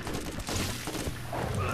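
Gunfire from the video game Borderlands rattles in dense, continuous bursts, loud and close over the game's ambient noise.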